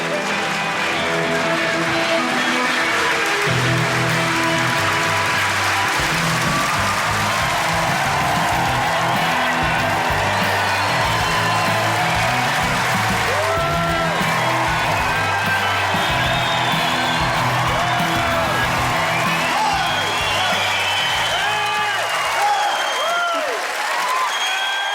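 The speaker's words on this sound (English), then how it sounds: "Just shouting in the middle of all that clapping and whistling." A large stand-up comedy audience claps loudly and steadily throughout, with whistles and scattered shouts rising over the dense applause.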